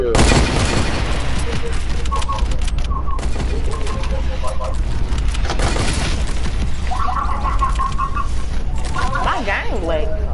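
SMG gunfire from a video game runs as a loud, dense, continuous spray of rapid shots across the whole stretch, with brief tonal game sounds mixed in.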